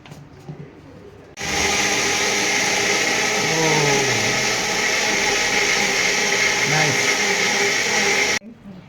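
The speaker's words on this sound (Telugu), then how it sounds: "ఇది మిక్సీలో వేసుకుందాం" A mixer grinder blending mango starts abruptly and whirs loudly and steadily for several seconds, its pitch wavering as the contents churn, then cuts off suddenly.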